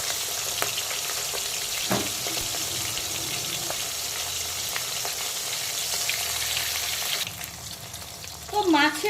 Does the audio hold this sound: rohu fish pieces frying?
yes